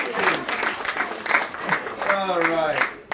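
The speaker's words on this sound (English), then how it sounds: "Let's give Michael a big round of applause." An audience applauds at an event. The clapping sits under a voice talking over it throughout.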